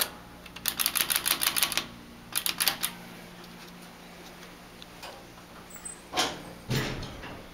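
A Dover hydraulic elevator in an office building: clusters of rapid mechanical clicks and rattles from the door operating, a steady high whine underneath, then a couple of louder thuds and a rumble as the cab moves, fairly faint and close.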